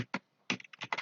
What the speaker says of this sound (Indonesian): Kita ketikkan lagi router EIGRP1, lalu kita ketikkan no auto summary.